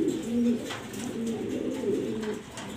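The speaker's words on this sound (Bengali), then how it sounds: "আনকমন এক পেয়ার কবুতর" A black and white pair of pigeons coo close by in low, repeated throaty calls over a soft background, with no talk.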